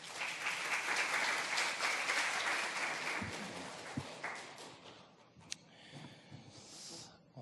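A church congregation claps steadily for several seconds, a dense broadband patter that slowly thins out and fades toward the end, with a few scattered last claps.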